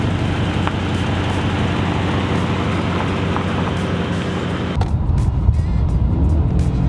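Dodge truck with a 5.7 Hemi engine on a test drive, heard as a steady broadband road and engine rumble from inside the cab that shifts and quiets slightly near the end, with no talking.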